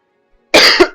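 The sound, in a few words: cough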